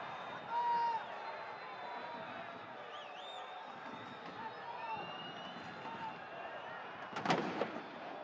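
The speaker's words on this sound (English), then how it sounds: "Pyrotechnics going off in the background as play continues in the 87th minute." Pyrotechnics at a football stadium during a Concacaf League match between Motagua and Comunicaciones: distant booms and crackles under steady crowd noise and whistling, with a sharp loud burst near the end.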